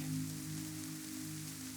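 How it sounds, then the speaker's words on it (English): Soft, steady rain falls outside a cottage as a faint, even hiss, with a low hum underneath and no voices. "The rain keeps falling."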